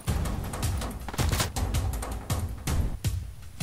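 Rapid bursts of gunfire in Fortnite crack out close and loud, coming in several clustered volleys with brief gaps between them.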